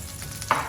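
Beef fries in coconut oil in a very hot skillet, a soft steady sizzle broken by one brief, sharp burst of spattering as the meat is stirred, with no talking.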